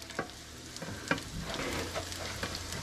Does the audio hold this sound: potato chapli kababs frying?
yes